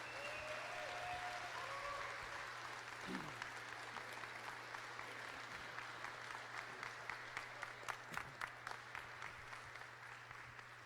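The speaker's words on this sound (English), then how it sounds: "let's just give everybody that competed today another round of applause" A crowd at a military combatives grappling championship breaks into sustained applause for the day's competitors, a steady wash of clapping that turns into sparser, more distinct claps toward the end, with a brief voice early on.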